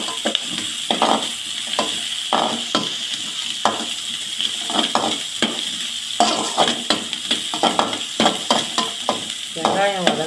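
Onions sauté in a pan for a spicy chutney, with frequent scraping and stirring strokes over a continuous close sizzle and a few light metal clinks; no voices.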